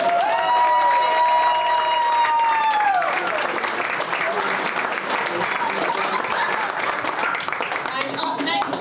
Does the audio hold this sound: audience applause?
yes